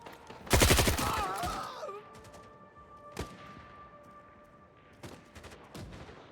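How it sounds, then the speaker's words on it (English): Gunfire in an online shooter game: a loud, rapid burst of automatic shots up front, then a few sharp single reports spaced out across the rest, with quieter ambience between. "Gunfire from this direction."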